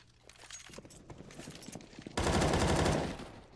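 Counter-Strike: Global Offensive gunfire, with a run of scattered single shots and footsteps followed by a loud sustained burst of UMP automatic fire that cuts off abruptly.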